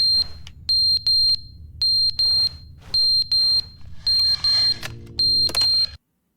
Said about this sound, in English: Smoke detector?